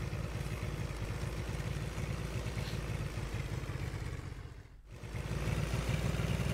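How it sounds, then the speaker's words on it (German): A tank engine in the video game Tank Mechanic Simulator rumbles at a steady low idle with a faint rhythmic clatter, briefly dropping away near the end before returning, with no talk over it. "Man will ja den Motoren-Sound ja auch hören"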